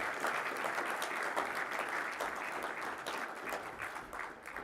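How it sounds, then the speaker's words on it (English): An audience at a Philippine-German business forum applauds warmly, a steady wash of many hands clapping from a distance for several seconds, moderately faint and continuous. "And a warm applause."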